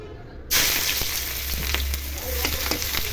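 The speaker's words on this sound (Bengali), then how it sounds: "তেল গরম হয়ে গেছে, এখন পেঁয়াজ কুচি দিয়ে দিব।" Chopped onions dropped into hot oil for a chickpea curry, bursting into a loud, steady sizzle that starts abruptly after a brief quiet moment and continues with crackles and pops.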